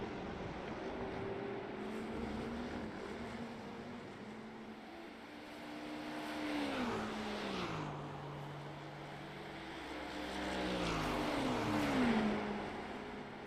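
GT3 and GTP race cars in a racing video game drone past in steady engine tones, pitches rising and falling with shifts and passes, moderately loud and continuous without talk.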